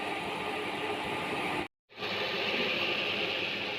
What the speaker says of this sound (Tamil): இது நல்லா கொதிச்சிருச்சு.